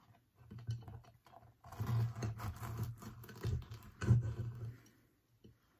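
A knife saws through a crusty bakery bread roll, producing close, crackly bursts of crunching in uneven strokes with short pauses between them.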